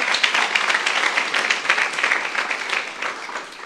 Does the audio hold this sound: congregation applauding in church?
yes